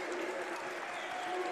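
Crowd at a Wednesday night college basketball game between the Evansville Aces and the Bradley Braves cheering and clapping steadily after a home win, a broad, even wash of applause under a commentator's voice.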